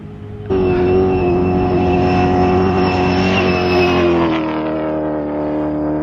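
A Dakar Rally vehicle roars past at speed. Its engine starts suddenly as a loud, close, sustained roar, then eases slightly toward the end, with no voices over it.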